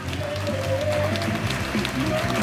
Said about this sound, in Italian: Fategli un bel applauso.